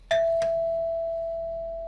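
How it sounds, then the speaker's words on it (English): A two-tone doorbell chime rings once at 2:17 a.m. in a fourth-floor flat behind a locked gate, two struck notes followed by a long steady ringing tail fading in a quiet room. "That's when the doorbell rang."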